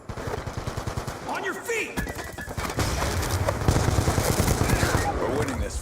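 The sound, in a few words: gunfire in Call of Duty Black Ops 2 video game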